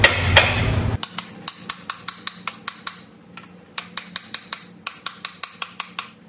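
Hammer tapping on metal while fitting a boat engine into a car, a loud clatter at the start followed by a steady series of sharp, ringing close-up strikes at a regular rhythm.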